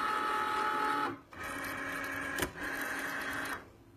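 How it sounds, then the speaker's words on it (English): A Cricut Maker cutting machine loads its cutting mat with a quiet mechanical whirring and feeding hum in two runs, separated by a short pause and a small click. "So I'm going to go ahead and load my mat by hitting these double arrow signs that's flashing at me."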